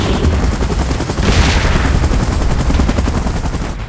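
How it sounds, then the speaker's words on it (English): A helicopter arrives in the PUBG video game during a Godzilla, Kong and Mechagodzilla battle, its loud rotor roar running continuously and densely from start to end, mixed with rumbling battle noise. "Chopper in position."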